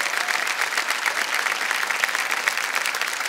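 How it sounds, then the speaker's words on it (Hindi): Studio audience clapping on the KBC quiz show, a dense, steady round of applause that carries evenly for the full stretch with no voices over it. "तालियां बज जाने चाहिए"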